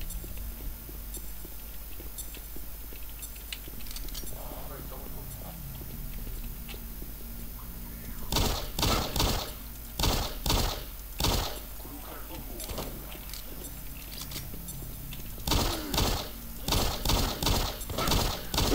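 Bursts of gunfire from the Doom 3 video game, several loud rapid volleys in two clusters after a quieter stretch of ambient game noise, with someone talking in between.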